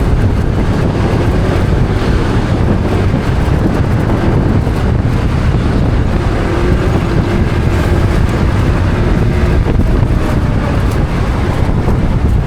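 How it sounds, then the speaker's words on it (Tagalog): Strong wind gusts hard across the microphone during rainy weather in a coastal town, a loud continuous roar and buffeting that fills the whole stretch with no pauses. "Medyo malakas lang ang hangin din talaga mga kawangbo."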